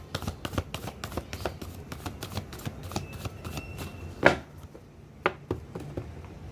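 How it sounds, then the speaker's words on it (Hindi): Tarot cards being shuffled by hand in quick, papery riffles and flicks that come close and soft, with a few sharper snaps and pauses near the end. "मैं सबसे पहले कार्ड को मिक्स करूंगी"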